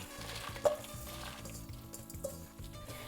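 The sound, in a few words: dried peppers toasting in a pan on low heat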